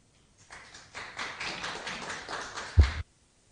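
A short burst of applause from a small gathered audience at a Won Buddhist Wednesday study meeting, welcoming a youth speaker; a few seconds of close, light clapping that ends abruptly.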